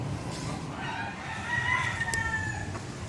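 A rooster crows nearby in one drawn-out, rising and falling call over a noisy farmyard background.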